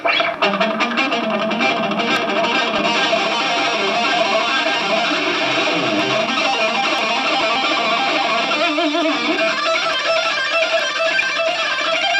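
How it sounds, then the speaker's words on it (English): Dense, sustained electric guitar with a thick, saturated tone plays continuously and loudly throughout, with fast picked notes and no voices. "I'm playing, but let me try that with distortion, because it always sounds better."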